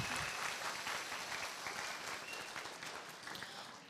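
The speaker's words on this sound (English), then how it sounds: "Yes, please clap for them" Crowd applause at a school spring band concert, a dense, sustained burst of many people clapping in a large room, strongest at the start and slowly tapering, with no talking over it.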